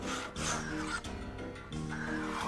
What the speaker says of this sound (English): This was also the first time I used a spoke shave to shape something like this.